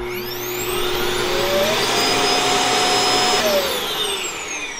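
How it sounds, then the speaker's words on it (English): A robot vacuum's base automatically empties the waste bin into a bag inside the base, producing a loud, steady motor roar with a whining tone that rises, holds, then falls away, with no talk. "it can automatically empty out the waste bin"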